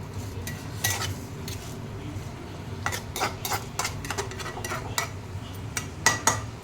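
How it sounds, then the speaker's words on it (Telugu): Prawns seasoned with turmeric are stirred in a pan with a metal utensil, giving repeated sharp clinks and scrapes against the pan over a low background rumble. "ఈ నీరంతా బాగా ఎగిరిపోయిన దాకా బాగా వేయించుకోవాలండి."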